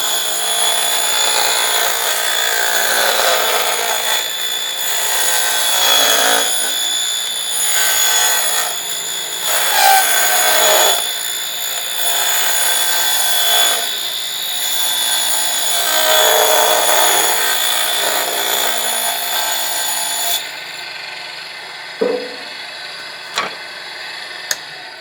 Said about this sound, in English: I have gone ahead and ripped sufficient stock for the two sides of the bench.